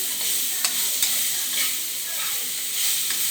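Onion sautéing with noodle masala spices in a pan, a steady close sizzle with occasional soft spatula stirs and scrapes running through, no voices.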